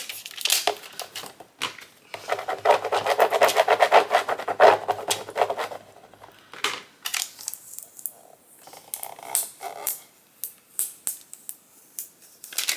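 Plastic backing is peeled off a craft adhesive sheet up close, a dense run of crinkling and rustling in the middle with scattered crackles and handling noises before and after.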